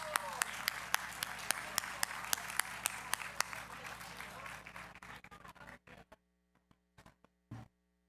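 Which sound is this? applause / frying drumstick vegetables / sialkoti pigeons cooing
applause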